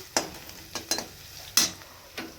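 Muri ghonto, a Bengali fish head dish with fried potatoes and soaked rice, frying in a pan as a utensil stirs it, giving about five sharp scraping strokes over a soft sizzle.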